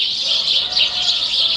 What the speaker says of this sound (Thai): เอาเสียงธรรมชาติมาฝากค่ะเพื่อนๆ เสียงนก